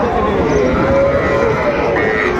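Young Sahiwal bull calves at a busy cattle market in Dinajpur, with a loud, close, drawn-out moo against a noisy crowd background that runs throughout.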